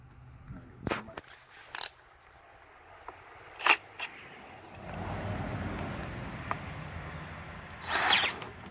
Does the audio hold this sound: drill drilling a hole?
yes